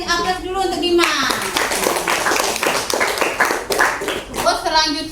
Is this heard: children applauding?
yes